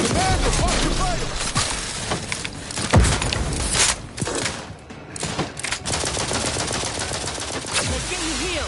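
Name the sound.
gunfire from The Outer Worlds 2 video game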